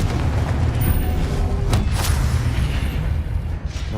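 A Confringo fire spell bursts in Hogwarts Legacy on PS5: a loud, sustained rumbling blast with a couple of sharper cracks in the middle, dense and heavy throughout.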